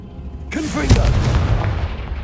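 A Confringo fire-blast spell goes off in Hogwarts Legacy as a sudden, loud boom with a whooshing crackle, then a deep rumbling tail that slowly fades.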